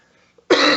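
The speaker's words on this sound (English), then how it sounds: "The cough was killing me" A single hard, loud cough bursts out close by after near silence and carries on as one sustained rasping blast to the end.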